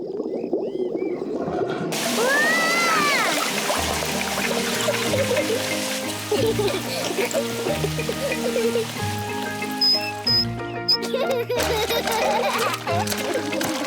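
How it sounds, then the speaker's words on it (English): Steady splashing and pattering of water from a hose into a paddling pool runs throughout, with a cartoonish musical tune and brief voices layered over it. "And Mummy Pig turns on the water."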